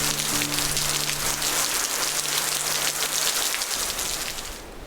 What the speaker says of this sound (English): we had to pause when the rain arrived.